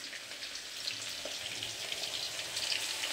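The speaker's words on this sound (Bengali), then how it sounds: "তো যাই হোক, আলুটা ভেজে নিই।" Potatoes fry in a pan on a gas stove, giving a steady, soft sizzling hiss that continues evenly throughout with faint crackles and no talking.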